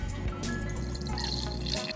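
Sauce pours steadily into a pot for ginger scallion steamed chicken, a continuous liquid trickle and splash heard close and fairly loud, with no talk.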